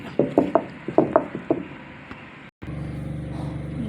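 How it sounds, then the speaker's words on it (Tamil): Onion and cumin being pounded and ground on a stone grinding slab: a run of close, sharp knocks with rough scraping between, then a steady grinding rasp, with no talk. "அம்மியில் அரைக்க போகிறோம்."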